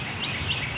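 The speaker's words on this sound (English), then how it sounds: "We're between gobbling turkeys" Wild turkey gobbles in North Carolina woods, a brief burst of rattling calls at a moderate distance over faint outdoor background.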